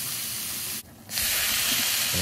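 Hamburger steak cooking in a pan gives a steady, loud broadband hiss and sizzle that drops away for a moment and then returns just as strong.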